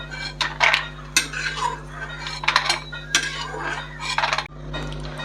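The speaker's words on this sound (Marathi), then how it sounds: "बदाम भाजून झालेत, काढून घ्यायचे।" Roasted almonds are scooped out of a pan of ghee with a metal spoon, a series of close, bright clanks and scrapes against the pan over a low steady hum, no speech.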